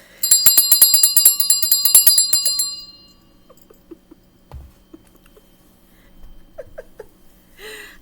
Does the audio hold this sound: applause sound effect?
no